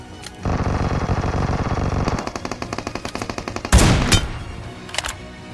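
Rapid automatic gunfire in PUBG on the Livik map, loud sustained bursts and a long rattling string of shots, then a sharp nearby blast and a few scattered later shots, with no talk.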